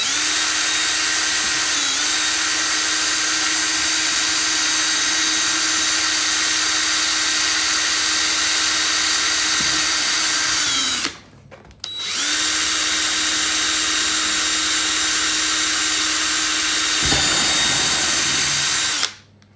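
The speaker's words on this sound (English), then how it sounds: "I've got a smaller drill bit, much smaller than 7mm." A power drill with a small bit whines steadily at high pitch into a plastic Givi motorcycle topbox, stops briefly, then runs again for several seconds before cutting off, loud and near.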